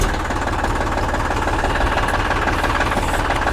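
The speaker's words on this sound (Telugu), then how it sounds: "బండి అయితే ఒకసారి స్టార్ట్ చేసి చూద్దాం." A new Eicher 480 tractor with a 45 HP diesel engine runs with a steady, rapid knocking chug, loud and close, with no talk over it.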